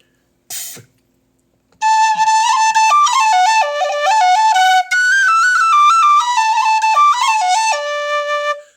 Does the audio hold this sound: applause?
no